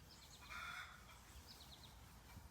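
Chickens cluck faintly in the distance at a farm, a couple of short calls over low outdoor background noise.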